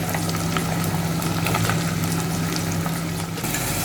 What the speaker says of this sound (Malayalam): ചെറുതായി അരിഞ്ഞ സവാള ഇട്ട് കൊടുക്കാം.